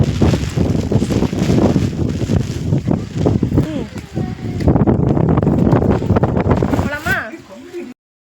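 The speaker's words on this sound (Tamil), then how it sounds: "பார்த்துருப்பீங்க, செம்ம காற்றுங்க." Strong cyclone wind from Cyclone Fengal roars and buffets the microphone continuously, loud and gusty, with a voice speaking faintly underneath before it cuts off.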